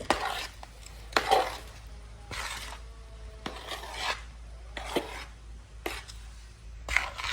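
Organic jaggery being mixed in a metal pot, with rhythmic scraping and clattering strokes of a spoon against the pot, about eight sharp bursts spaced unevenly, close and fairly loud in a quiet room.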